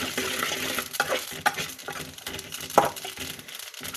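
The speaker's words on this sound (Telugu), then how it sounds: "ఇప్పుడు నువ్వు పప్పు వేపుతాను" Sesame seeds roasting in a pan, stirred continuously with a thin stick, with a busy texture of crackling, popping, sizzling and scraping and a few sharper pops, close and fairly loud with no voice.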